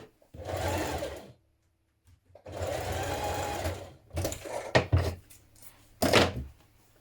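Sewing machine back tacking to reinforce a dress skirt seam, running in two long steady bursts with a pause between, followed by several short clunks and thumps of handling near the machine.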